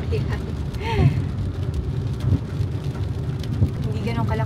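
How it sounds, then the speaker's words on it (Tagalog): Steady light rain falling outdoors by a highway after a typhoon, a continuous soft hiss with low rumbling traffic underneath and occasional passing vehicles, a voice speaking over it. "Hindi ganun kalakas ang ulan. Hindi rin malakas yung hangin. Pero tuloy-tuloy yung pag-ulan."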